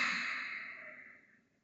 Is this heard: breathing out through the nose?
yes